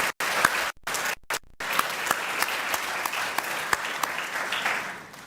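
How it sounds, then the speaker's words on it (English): An audience at an inaugural university lecture applauds steadily for several seconds, a dense wash of clapping broken by a few brief gaps near the start. "I think we should give her a big clap again."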